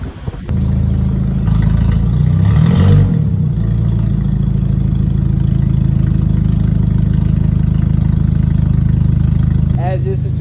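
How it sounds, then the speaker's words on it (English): A car exhaust with gutted catalytic converters rumbles after a brief start-up, settling into a loud, deep, steady idle up close with a quick rev near the start. "Let's get some sound clips of this exhaust."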